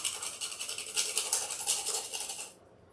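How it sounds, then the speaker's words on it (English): Fresh nutmeg is rubbed against a small nutmeg grater in quick, rhythmic rasping strokes for a couple of seconds, close and fairly quiet, then it stops abruptly. "So here's my nutmeg grater."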